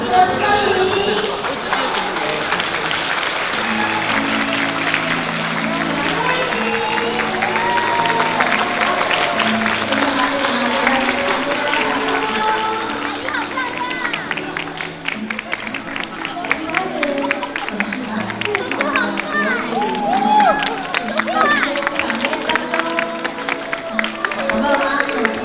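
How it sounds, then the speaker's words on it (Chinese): A wedding banquet crowd applauds the host walking in, with sustained clapping and cheering lasting many seconds, carried over loud music and background chatter. "让我们掌声欢迎"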